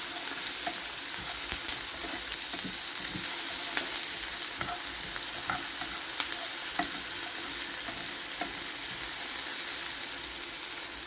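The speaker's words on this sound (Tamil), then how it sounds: "இப்போ நான் இதுக்கு கொஞ்சம் கேரட் சேர்க்குறேன். கொஞ்சம் பொரிய விடுவோம்." Carrots fry in a hot pan for a sweet kuzhi paniyaram recipe, giving a constant close sizzle with faint crackles and occasional soft scrapes throughout.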